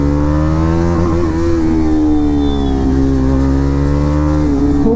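KTM Duke 390 BS6 motorcycle with a loud aftermarket exhaust, a close, steady, heavy droning engine note held at high revs with slight pitch wobbles throughout.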